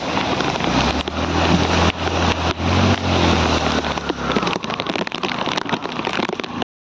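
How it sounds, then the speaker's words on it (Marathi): Heavy monsoon rain in a village pours steadily close by, loud broadband hiss with a low engine-like rumble early on, continuing for about six and a half seconds before cutting off. "पाऊस बघा किती आहे"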